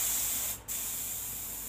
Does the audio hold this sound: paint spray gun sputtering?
yes